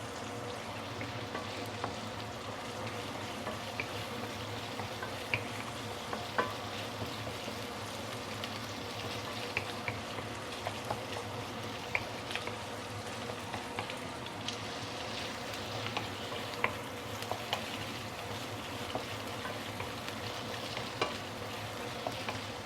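Prawns frying in a hot wok for Penang-style fried noodles give a steady, soft sizzle with faint crackles and occasional clinks, continuous and fairly quiet throughout, with no talk.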